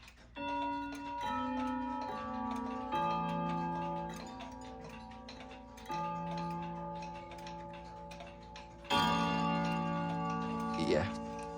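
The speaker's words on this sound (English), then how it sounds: "Westminster chime." Ridgeway Breton grandfather clock striking its Westminster chime, a sequence of ringing rod tones in a slow four-note pattern, then a louder, fuller strike near the end, with people talking faintly in the background.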